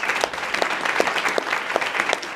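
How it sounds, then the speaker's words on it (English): Applause from an audience at an evening bio-industry networking event fills the room with a steady wash of many hands, plus some sharper individual claps, continuing without pause. "Can we have some applause for?"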